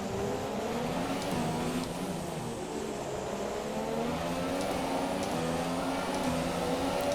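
McLaren-Honda Formula 1 car engine in the F1 2017 racing game at night, a continuous high-pitched drone that rises and falls through gear changes, steady and fairly loud, heard alone without talk.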